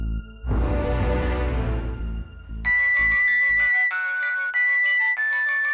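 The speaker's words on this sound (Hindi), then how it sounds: "आपका मोबाइल बार बार बज रहा था" A loud rumbling burst gives way to a mobile phone ringtone playing a bright electronic melody of repeated tones, close and clear.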